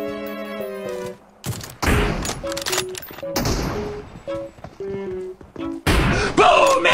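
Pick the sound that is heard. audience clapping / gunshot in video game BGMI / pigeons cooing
gunshot in video game BGMI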